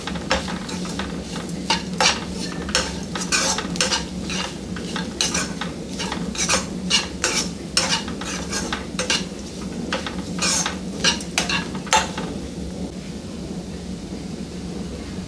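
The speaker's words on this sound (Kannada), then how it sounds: "ಇವಾಗ ಇದನ್ನು ಚೆನ್ನಾಗಿ ಮಿಕ್ಸ್ ಮಾಡ್ಕೊಳ್ಳೋಣ." Coconut rice mixture being stirred in a pan, with a steady run of scraping utensil strokes and faint sizzling that continue for about twelve seconds and then give way to quieter frying with no talk.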